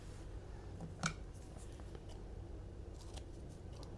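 Scissors snip once at packing tape during a soda bottle compressed air tank build, a single close, brief crunch over a low steady background hum.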